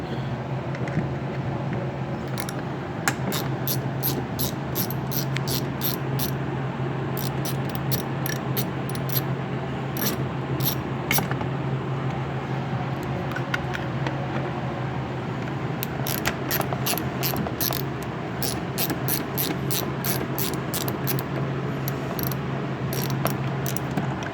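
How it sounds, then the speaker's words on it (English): A T20 Torx driver working screws out of a BMW E90 3 Series rear door, rapid ratcheting clicks in repeated bursts over a steady low hum, close and continuous, no talking. "You're going to need a T20 Torx to get them out."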